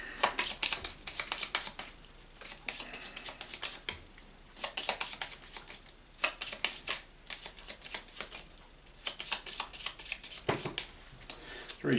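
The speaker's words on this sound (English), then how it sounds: "we'll just have a little shuffle and a redraw" A deck of playing cards for a solo tabletop game is riffled and shuffled up close in repeated quick bursts of crisp fluttering, with short pauses between passes and no talking.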